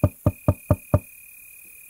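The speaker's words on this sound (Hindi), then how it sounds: "उल्लू घर का दरवाजा खटखटाता है।" Five sharp, evenly spaced knocks on a house door in a Hindi cartoon, loud and close, followed by silence.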